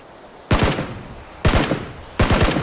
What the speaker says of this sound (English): Shots! Oh, so now they shoot.